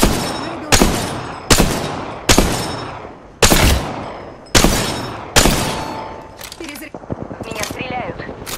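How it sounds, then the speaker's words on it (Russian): Loud, evenly spaced single shots ring out about every second from a gun in Apex Legends, each with a sharp crack and decaying tail, then fainter scattered firing at the end. "Они стреляют, да еще и в меня."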